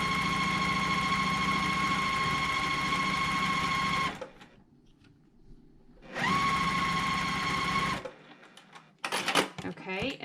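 A sewing machine stitches fabric for a quilt block, a steady mechanical whir with a high hum that runs, stops, then runs again. Scraping and handling noises follow, with no voices.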